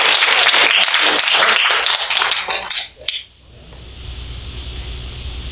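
A congregation applauding during a Korean Methodist church service, dense sustained clapping from many hands that dies away after about three seconds, leaving a quiet room hum.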